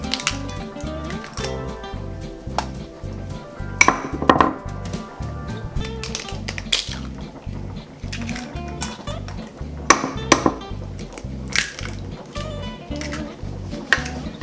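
Eggs are lightly beaten in a bowl for oyakodon, making rhythmic soft clicking and tapping strokes at a steady pace with occasional sharper clinks of utensil against dish, close and fairly quiet.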